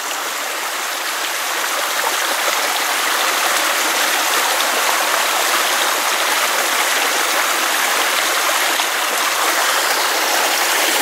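Steady rushing woodland stream water at Holloway Rocks Wood flows loudly and continuously, a dense, unbroken babble with no voices.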